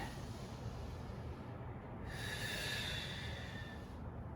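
A breathy exhale during a barre Pilates exercise, a sustained airy rush of about two seconds over steady background noise, heard close.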